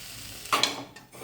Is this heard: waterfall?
no